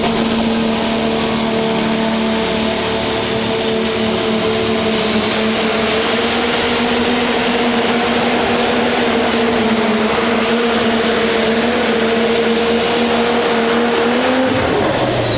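A pro stock diesel tractor roars through a pull at the Scheid Diesel Extravaganza, its engine a loud, steady, sustained drone with a slight rise in pitch across the run and no voices on top.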